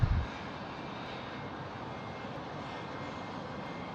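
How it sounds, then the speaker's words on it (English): A Qantas Airbus A380 on final approach to runway 34 left at Sydney Airport gives a steady, distant, moderately faint engine rumble, with a brief low thump at the start. "It's time for the big Q, the A380 now on final runway 34 left."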